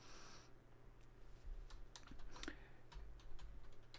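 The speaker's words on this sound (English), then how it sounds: "I'm going to type my screen tip right in there." Someone keys text into an Excel workbook on a computer keyboard, a quick irregular patter of light clicks close by, a few brief bursts over a faint background hum.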